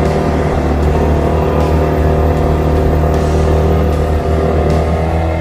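Car engine held in low gear while climbing a steep uphill road toward Puncak Sempur, Karawang, a loud, steady, strained drone close by throughout, with no talking.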